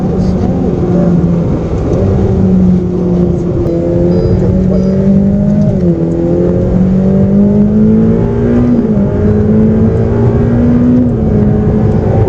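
A car engine pulls steadily on a track with a loud, smooth droning note that rises slowly in pitch, dips briefly at gear changes and keeps climbing, heard from inside the car.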